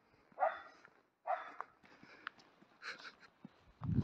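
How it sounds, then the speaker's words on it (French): A small dog yaps excitedly on a mountain hike near the Col d'Anaye in the Pyrenees, with several sharp close barks in bursts, ending in a louder low-pitched bark. "il est tellement content qu'il arrête pas de japper"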